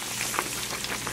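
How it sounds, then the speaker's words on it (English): Pancake batter deep frying in hot oil, a steady close sizzle with soft crackling bursts throughout, no talk. "I'm making a pancake inside a pancake, and I'm deep frying it."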